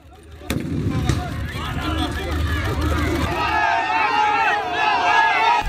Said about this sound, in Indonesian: Polisi Israel menembakkan gas air mata dan granat kejut ke arah kerumunan demonstran Arab